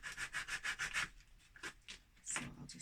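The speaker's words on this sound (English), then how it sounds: "before I put them on, I'm just going to give them a little sand" Hand sanding small white chalk-painted wooden pieces for a rustic bird feeder, quiet close rhythmic back-and-forth rubbing strokes, a fast run of about seven, then a pause and a few slower scattered strokes, no talking.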